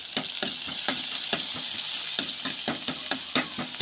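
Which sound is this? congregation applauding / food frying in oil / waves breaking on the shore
food frying in oil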